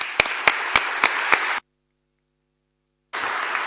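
Applause at a government commission session on science, technology and the future, with several sharp, evenly spaced claps over a clapping wash that cuts to complete silence midway and then resumes.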